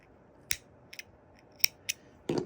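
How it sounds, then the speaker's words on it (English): Scissors snip through crochet cotton yarn in a few sharp, close cuts: single clicks spaced apart, then a brief louder rustle at the end, with no talking. "get your scissors,"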